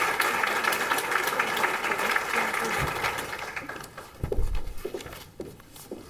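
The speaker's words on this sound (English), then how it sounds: "Please give a round of applause for Shelby Doyle" Applause from an audience at an honoree recognition event, a steady dense clapping that gradually thins and fades, with a few louder scattered claps and bumps near the end.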